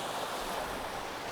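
Ocean waves breaking on the shore of Madeira under stormy skies, a steady broadband roar of surf and wash with some wind, continuous and fairly close, no voices.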